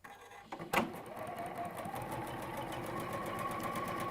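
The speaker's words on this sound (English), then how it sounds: "what I will just do is sew end on end" A sewing machine joins two strap pieces end on end for a shoulder bag, starting after a faint click and thump, then running in a steady, fast rhythmic whir up close and fairly quiet.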